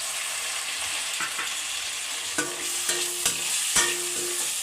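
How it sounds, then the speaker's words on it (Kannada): Capsicum fries in a pan with a constant bright sizzle, while a few sharp spatula knocks and scrapes against the pan land in the second half. "ಇದನ್ನೊಂದು 2 ರಿಂದ 3 ನಿಮಿಷ ಫ್ರೈ ಮಾಡ್ಕೋಬೇಕು ಕ್ಯಾಪ್ಸಿಕಮ್ನ."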